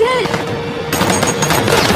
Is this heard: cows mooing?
no